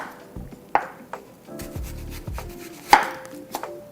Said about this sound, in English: We're going to start with 1 large sweet onion that we have removed the skins from, which we're going to slice into circles.